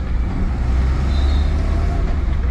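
Suzuki Jimny kei car engine runs with a steady, loud low rumble as the driver shifts into second gear through a loose, sloppy shifter, with no talking.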